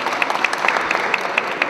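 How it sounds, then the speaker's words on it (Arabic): An audience gives a family steady, dense applause at a community event in Constantine, Algeria, with the clapping loud and close. "أعطونا تصفيقة على غزغوز يوسف"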